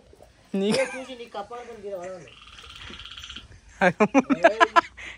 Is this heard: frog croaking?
yes